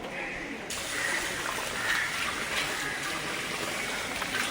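Water runs steadily from a tap as feet are washed at a temple, a close, continuous hiss and splash that grows louder after a brief quieter opening, with voices faintly underneath.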